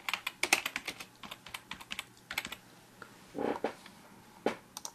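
Computer keyboard typing in short bursts of crisp, close key clicks with brief pauses, ending in a couple of heavier keystrokes, with no talking.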